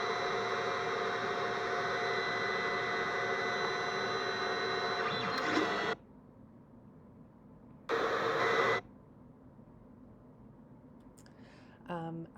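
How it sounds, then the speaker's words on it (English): A 3D printer waiting for its nozzle to heat after the bed has warmed, giving a loud steady whirring fan drone that cuts off midway, returns briefly, then resumes at the end. "the bed is heated up, so now we're just waiting for the nozzle to heat up"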